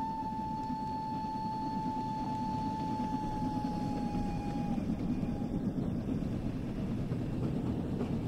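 A double-headed steam train passes on the West Somerset Railway in the game Train Sim World 4, a steady loud rumble of rolling wagons with a sustained whistle-like tone, continuous for several seconds with no talk.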